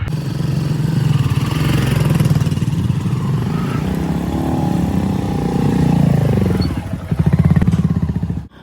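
A Royal Enfield Bullet motorcycle engine thumps steadily while riding, a continuous low, loud rumble that swells briefly near the end.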